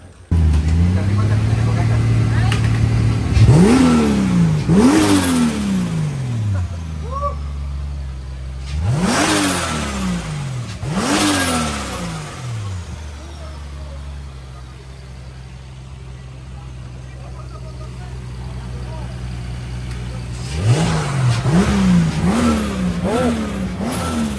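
A race car at the Val de Vienne circuit during a French championship round, its engine starting and then revving in several sharp rising bursts separated by idling. It sounds loud and near, with people talking over it.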